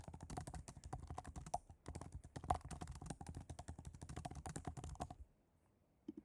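Rapid typing on a computer keyboard, a quiet, close run of crisp key clicks in an uneven rhythm for about five seconds before stopping into near silence.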